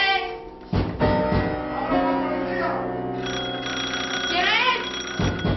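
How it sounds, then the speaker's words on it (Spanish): Dramatized doorbell at a house in 1936 Spain, ringing insistently: a bright electric bell trills repeatedly and steadily at moderate loudness, with no pause between rings. "el timbre sonó con insistencia en casa de los Calvo Sotelo"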